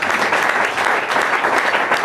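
A church congregation claps loudly and steadily throughout, a dense, continuous wash of hands with no pauses.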